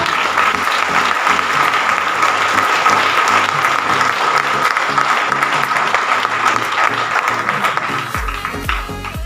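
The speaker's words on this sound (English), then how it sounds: "So, dear audience, give her an energetic clap." Energetic, sustained applause from the audience at a school meritorious award ceremony, thick even clapping from a large crowd that stays loud for several seconds and thins near the end.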